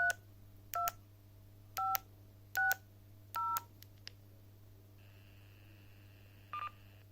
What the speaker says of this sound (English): So I'm just going to dial into it